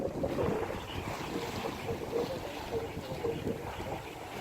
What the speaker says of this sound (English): It's very quiet. You can hear the water.